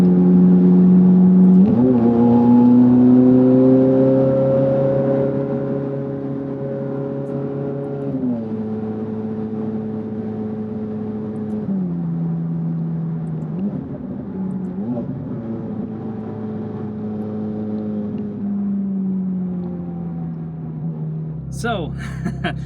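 A Ferrari F430 Scuderia with a Capristo exhaust revving and pulling through gears, its loud, tonal engine note climbing, dropping at shifts and settling into a steady drone, close and dominant throughout.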